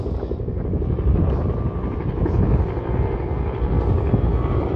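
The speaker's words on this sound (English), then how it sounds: "Huey was the first gas turbine powered helicopter in the US inventory." A Huey gas-turbine helicopter drones overhead with a steady rotor thump and turbine roar, mixed with some wind buffeting the microphone.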